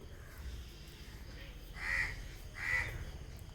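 Two short caws from a crow, moderately distant, spaced under a second apart over quiet outdoor ambience where birds gather to feed.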